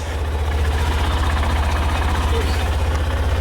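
A Honda CB125F motorcycle engine idling close by, a steady, even low chug with a fast regular pulse running throughout.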